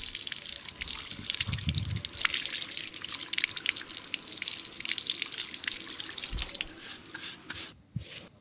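Water runs and drips from a tap onto a horse's hoof as it is washed after maggots were removed from under the horseshoe, a steady splashing trickle close by with a couple of brief low knocks.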